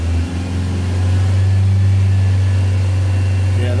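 A Ford Transit diesel engine with low power and a warning light is held at around 3,000 rpm, giving a loud, steady, close drone with a strong low hum that settles briefly before rising again.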